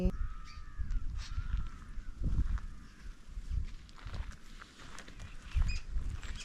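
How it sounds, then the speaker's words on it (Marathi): Birds call along a rural road in the rainy season, crow-like caws and chirps over soft rustling and footsteps of people walking, moderately distant and fairly quiet, with no talk. "आणि छान पक्ष्यांचा आवाज येतोय"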